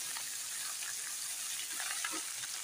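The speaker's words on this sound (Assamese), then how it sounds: "এবাৰ লাৰি দিছোঁ।" Onion, arum leaves, arum root and potato fry in a pan while being stirred, giving a soft, steady, close sizzle with faint scraping.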